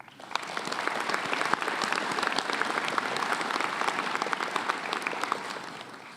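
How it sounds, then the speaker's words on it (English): Graduates at a spring commencement ceremony applaud themselves, a broad wash of clapping from a large crowd that swells quickly and holds evenly, heard from a little distance. "Graduates, please give yourselves a round of applause."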